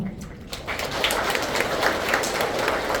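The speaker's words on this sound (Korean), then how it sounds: "소유자님들께서 큰 박수를 부탁드립니다" Landowners at a briefing on a market redevelopment project in Siheung applaud newly introduced officers. The clapping from the seated crowd is dense and continuous, swelling slightly after a quieter start.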